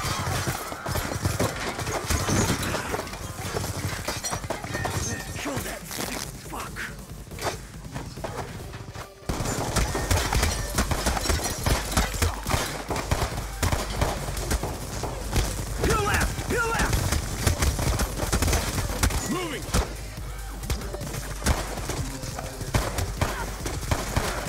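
Gunfire erupts as soldiers open fire in the Black Ops 2 video game, bursts of shots and crashes mixed with dense battle noise and shouting voices, loud and continuous throughout with a brief drop near the middle.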